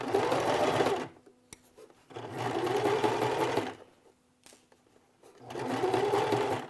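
A domestic sewing machine stitches curved quilt block seams for a Drunkard's Path pattern, running in three steady bursts of a few seconds each with quiet pauses between, close and clear, with no talking.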